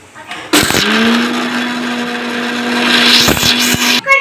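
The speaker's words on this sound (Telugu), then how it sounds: "ఇప్పుడైతే ఈ పేలాలని ఫస్ట్ మిక్సీ పట్టుకోవాలి" A mixer grinder runs on puffed jowar (sorghum) with a loud, steady motor whine that starts abruptly, gets a little louder and then stops, followed by a short rattle.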